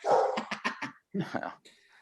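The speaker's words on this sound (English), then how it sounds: "Commenting on my dog." A dog whimpers and gives a few short yips and barks in quick bursts, close by, with a brief pause before more whining sounds trail off at the end.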